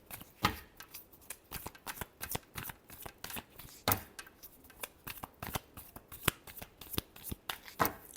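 Tarot cards being shuffled by hand, a quick run of crisp riffling bursts and soft slaps repeating for several seconds, close and fairly quiet with no talking.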